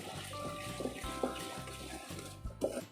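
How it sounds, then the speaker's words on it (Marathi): Water trickles and splashes in short bursts as a tablespoon of water is poured into melting jaggery in a pan, with soft clinks and bubbling close by. "यामध्ये आपल्याला एक टेबलस्पून हे पाणी घालायचं आहे"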